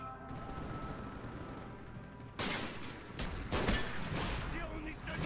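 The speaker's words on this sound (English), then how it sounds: "there will be an L96 shot right to my left, a few feet away from me" An L96 sniper rifle shot in a Call of Duty match, fired a few feet to the left: sharp gunfire cracks cut in over steady game noise, first one burst, then a louder cluster of shots toward the end.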